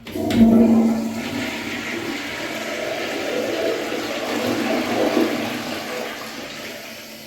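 A first-generation standard Tribor toilet with a siphon jet flushes: a loud initial rush of water gives way to a steady swirling, gurgling drain that continues for several seconds, close up and with no voices.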